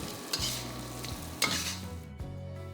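Salt and pepper pork chops with green spring onion are tossed in a hot pan, giving a loud sizzle with two or three sharp scraping tosses and the metallic clatter of the pan. No one speaks.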